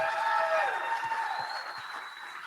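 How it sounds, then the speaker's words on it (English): An audience at a reunion event applauds with steady clapping over a faint tonal background, easing slightly toward the end. "So let's give an applause for Joe Fama and Dan Trader."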